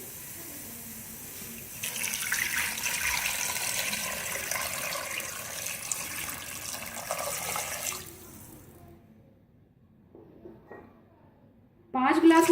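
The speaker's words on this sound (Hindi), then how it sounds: "उसके बाद हम पानी शामिल करेंगे।" Water pours steadily into a pressure cooker holding goat trotters, a broad rushing splash for several seconds that stops abruptly, followed by a few faint clinks.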